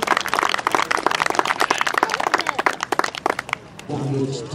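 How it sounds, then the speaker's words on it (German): Crowd at an outdoor RC model aircraft formation flight show claps for the landed formation team, a dense burst of applause that thins out before a steadier background noise takes over. "Und dann haben sie einen tosenden Applaus verdient."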